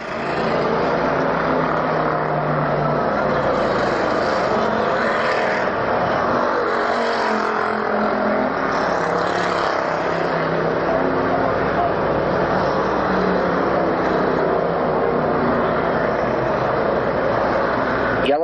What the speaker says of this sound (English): A lot of cars trying to pick back up the speed coming off the outside part of the speedway